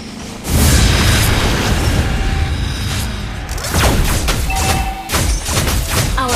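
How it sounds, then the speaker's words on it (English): Turret destruction in the mobile game Mobile Legends: loud, continuous booming blasts and heavy thuds, with a fresh burst of impacts partway through, dense and close throughout. "Our turret has been destroyed."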